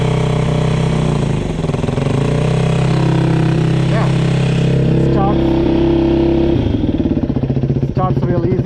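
A 450cc four-stroke dirt bike engine fires up and settles into a loud, close, rumbling idle as it warms up, with a voice talking over the steady engine note.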